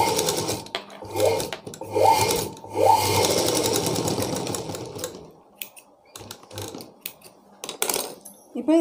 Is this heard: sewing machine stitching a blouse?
yes